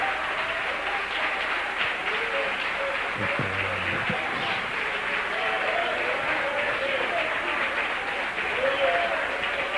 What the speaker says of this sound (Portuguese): Receba essa aplauso, Jesus, que é para ti essa noite